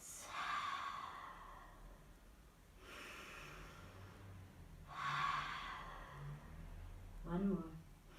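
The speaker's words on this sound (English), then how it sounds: "take 3 nice big breaths" Slow, deep breaths in a yoga child's pose, with two long exhales in a quiet room, followed by a short soft voice near the end.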